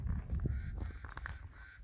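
A crow calls once or twice, faint and distant, over outdoor wind along an old gold-mining valley trail.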